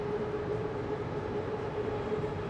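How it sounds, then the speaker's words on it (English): A Bangkok SkyTrain rolls into a station, giving a steady, loud rumble with a sustained tonal whine from the elevated line, continuous and unbroken for the whole stretch, with no voices over it. "Oh, and we've got the SkyTrain rolling in."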